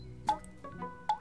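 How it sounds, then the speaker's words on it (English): Water dripping indoors, two clear plinking drops spaced about a second apart against a quiet background, with a softer drip between them. "what is that dripping sound?"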